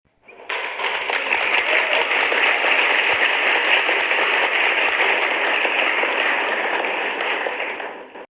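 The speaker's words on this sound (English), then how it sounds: "I want us, in a standing and in a clapping ovation, I want us to clap for Dr." A standing audience claps for Dr. Ngozi at a public gathering, a dense, steady roar of many hands that starts sharply, holds loud and even for about eight seconds, then stops abruptly, with no voices over it.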